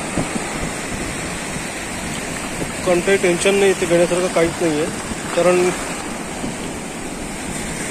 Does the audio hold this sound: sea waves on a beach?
yes